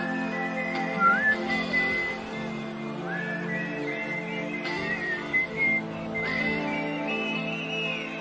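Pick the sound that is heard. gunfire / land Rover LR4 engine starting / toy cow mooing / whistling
whistling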